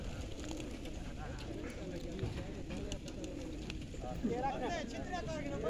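Pigeons released at a large pigeon-flying competition fair by a river coo in soft, rolling murmurs amid a busy outdoor crowd, with people talking steadily over them.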